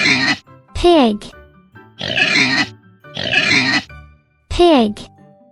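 A pig oinks and grunts in five short, loud, nasal bursts close by, with brief gaps of quiet between them.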